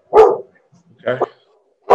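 Dogs barking indoors, two or three short sharp barks separated by silence, close and loud, with a brief spoken word mixed in.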